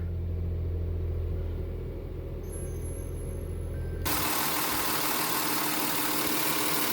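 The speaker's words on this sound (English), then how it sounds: "I just connect the jumper cable and the van is still going" A van's engine idles steadily with a low rumble after being jump started, then an abrupt shift to broad, louder noise takes over midway, as if the hood or surroundings change; no talking.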